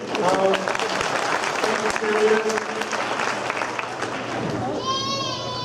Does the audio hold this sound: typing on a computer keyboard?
no